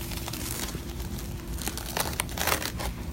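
Someone opens a surgical supply pack's paper wrapper, with continuous close crinkling and crackling, sharper rustles toward the end.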